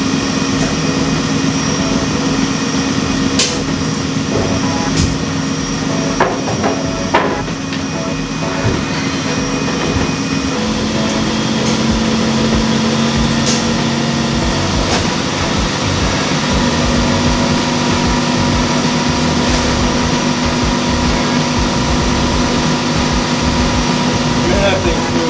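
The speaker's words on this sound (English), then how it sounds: "She's going to go into spin cycle here in a minute." Horizon front-load washer spinning at high extraction speed after its shock absorbers were replaced: a steady loud whirring hum with a droning tone that steps up as the spin builds, with occasional clicks and someone speaking briefly.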